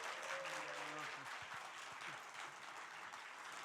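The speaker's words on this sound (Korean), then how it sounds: "우리 박수로 한번 강사 목사님을 맞이하겠습니다" A church congregation claps steadily and evenly to welcome a guest pastor, with a few voices faintly audible beneath the applause.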